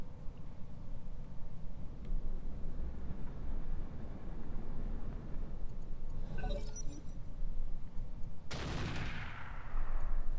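A mech fires its quad gun in the game Roguetech, producing a couple of crisp metallic bursts with glassy, rattling impacts over a steady low rumble, the sharpest blast arriving near the end.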